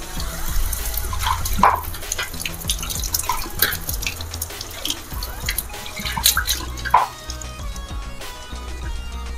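Water is poured onto gram flour, with splashing and dripping sounds and a few louder splashes along the way.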